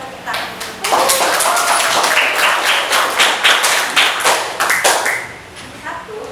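A classroom audience bursts into applause for students' presentation of a product they made, sustained clapping with loud taps lasting several seconds before fading, with voices underneath.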